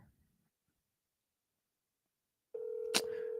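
A phone call rings out over speakerphone while waiting for pickup: after a long silence, a steady electronic ringback tone starts near the end and holds loud and continuous, with a brief sharp click partway through.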